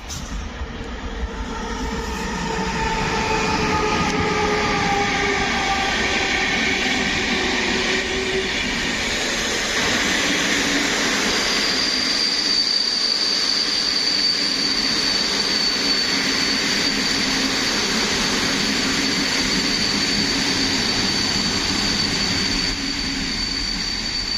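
Trains at Łowicz Główny railway station in Poland, a loud continuous rumble and roar of a passing train lasting throughout, with a high whine rising midway and steady wheel noise.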